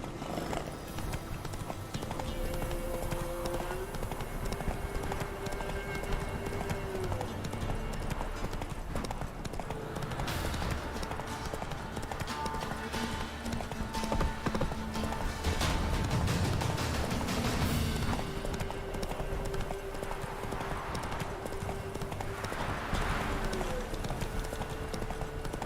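Roach, the horse in The Witcher 3, gallops with loud, rapid clip-clopping hooves in a steady rhythm, layered over game music and ambient sound, with brief talk.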